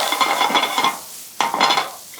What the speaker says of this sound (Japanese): ニンニクを入れます。ニンニクのみじん切りです。